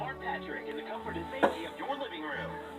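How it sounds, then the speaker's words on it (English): Scissors snip thin insulated scrap wire for recycling, giving a single sharp cut midway under ongoing talk. "They're just good for chopping thin wires."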